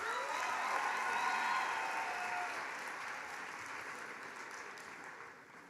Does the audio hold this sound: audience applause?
yes